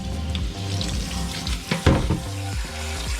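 Cold tap water runs steadily into a sink as sauerkraut is rinsed, with splashing and soft clattering, close and fairly loud, and no talk.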